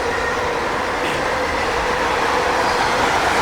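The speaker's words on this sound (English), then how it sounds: "Freight trains with mid DPUs." A CSX freight train hauling auto rack cars rolls past nearby, a steady loud broadband rumble and rush of wheels on rail with no pauses.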